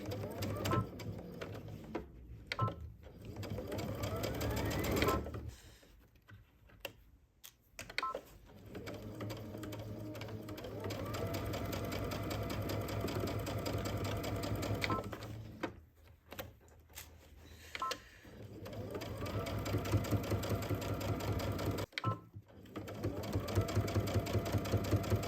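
A home sewing and embroidery machine runs in bursts, stitching fabric shut with a rapid rhythmic mechanical clatter that pauses briefly between runs, fairly close and steady throughout.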